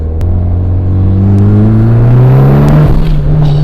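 Snow camo wrapped 400 bhp Evo X with all-wheel drive accelerating hard on boost, a loud, close engine roar climbing steadily in pitch through the gear, with a brief shift break near the end.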